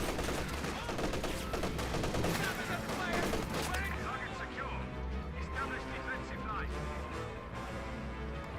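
Dense bursts of rifle and machine-gun fire rattle through a Company of Heroes 2 battle, loud and continuous at first, then thinning into scattered shots beneath a talking commentator.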